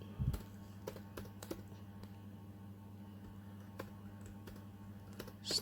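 Quiet, steady clicking of computer keyboard keys as commands are typed into Maple math software, irregular keystrokes over a low electrical hum, with no talking.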